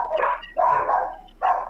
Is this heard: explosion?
no